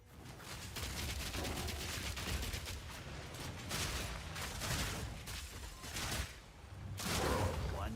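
Rapid bursts of gunfire-like explosions from ignitions in the video game Witchhunter, dense and continuous for the whole stretch with a louder swell near the end, and a faint voice now and then underneath.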